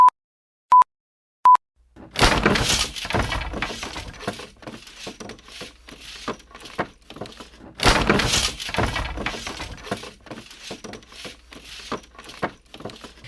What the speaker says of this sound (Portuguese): Quando nós quebramos uma fita cassete